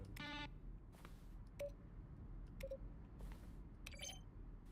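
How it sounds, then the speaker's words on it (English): Button presses in The Stanley Parable video game, each a keyboard stroke mixed with a synthesized tone: a scattered series of short clicks and bright electronic beeps, quiet and separated by brief gaps over a faint background hum. "A selection of sounds used throughout the game when buttons are pressed."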